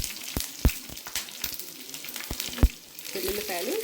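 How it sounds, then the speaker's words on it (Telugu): Cumin, mustard seeds, dried red chillies and green chillies crackle and sizzle in hot oil for a Telugu kandi kattu charu, with sharp pops and spitting bursts over a steady frying hiss. "ఇప్పుడు దీంట్లో కొద్దిగా తాలింపు దినుసులు వేసుకుందాం."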